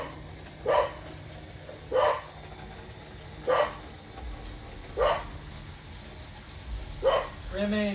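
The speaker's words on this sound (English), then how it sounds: "stop barking." A dog barks in six evenly spaced bursts roughly a second and a half apart, moderately close over a steady low background hum, with no talking in between.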